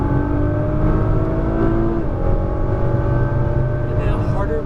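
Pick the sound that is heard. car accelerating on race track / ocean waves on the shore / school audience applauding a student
car accelerating on race track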